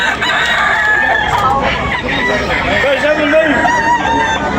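Chickens cluck and a rooster crows loudly and close by, with busy background noise throughout, at Tabunok, Cebu.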